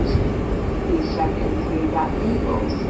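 An R142A train on the IRT 6 local subway line rumbles steadily from inside the car, a constant loud interior drone with a faint voice in the background.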